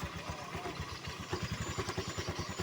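A Honda Vario scooter idles with a strange noise from the CVT area, giving a steady rapid pulsing and rattling clatter close to the microphone.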